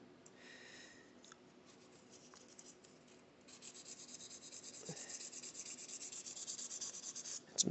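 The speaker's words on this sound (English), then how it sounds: "watching a video of somebody sanding a piece of metal" A metal guitar fret being sanded while leveling a single high fret: a soft, steady rubbing scrape close up, faint at first and then growing louder with quicker repeated strokes near the end, with no voice.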